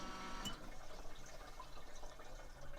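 Water runs steadily from a campervan tap, a soft continuous hiss and trickle at close range with no voices.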